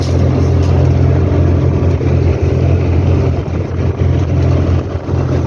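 A tractor engine runs at about 1800 rpm while working a field during soybean sowing with an ORIGIN SEED 3.0 seed drill, producing a loud, steady, close drone with a slight rev rise and no talk.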